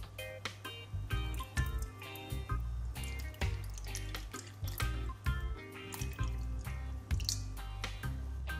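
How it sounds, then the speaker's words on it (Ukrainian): Water poured into a deep metal bowl holding a flower pot, heard close and alone as a steady run of drips and splashes with a rhythmic patter throughout. "І тепер мені залишається сюди залити воду."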